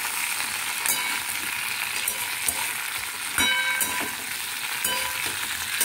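Ginger paste is being mixed into sukto, a Bengali mixed-vegetable dish, as it cooks in a pan, with a continuous close sizzle and intermittent spoon scrapes and clinks against the vessel.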